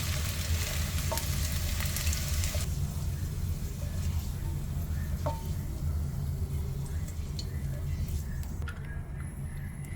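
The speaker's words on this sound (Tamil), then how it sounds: "இது பாதியாக குறையிற அளவுக்கு நம்ம நல்லா எண்ணெயிலே வதக்கணும்" Okra is sautéed in plenty of oil in a pan, giving a steady, close sizzle that runs without pause, with a few light clicks of a spoon against the pan.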